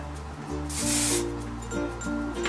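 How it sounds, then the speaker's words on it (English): Hairspray hisses in a single short burst onto hair styled for an old Hollywood glam look, close and fairly soft, with a low hum and faint tones around it. "So I'm just gonna spray."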